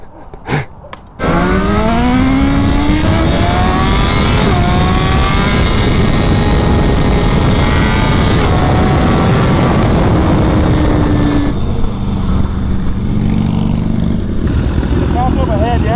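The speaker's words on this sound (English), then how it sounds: "That's a fucking beautiful motorcycle." A motorcycle engine revs and roars up close after a couple of sharp clicks, its pitch rising and falling in long sweeps, with people talking near the bike.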